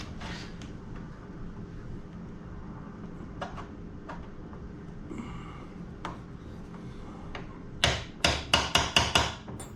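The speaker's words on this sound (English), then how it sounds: "We're gonna need a hammer." Quiet fiddling and a few light knocks, then a rapid series of about six sharp hammer blows close by, fitting a spiral cutterhead onto a DeWalt 735 planer.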